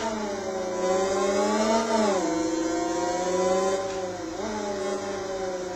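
Lightweight racing motorcycle engine in the video game Riding Spirits 2, revving high and steady with rising and falling pitch as gears shift, loud and close with no talk.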